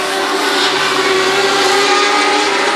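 Sprint cars and mod lites roar around a dirt oval in a steady, loud engine drone with a sustained tone, racing for second place, no talk over it.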